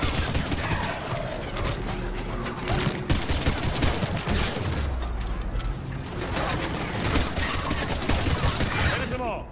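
Bursts of rapid automatic gunfire and single shots from Mass Effect 3 combat, loud and continuous with overlapping volleys and impacts, and some character dialogue mixed in.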